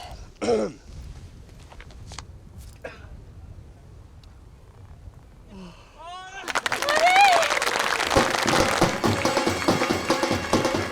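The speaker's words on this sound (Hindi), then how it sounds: "तालियां सुनी?" Applause from a crowd swells up in a film scene and carries on steadily for several seconds. Before it, there is a throat clearing and some quiet speech.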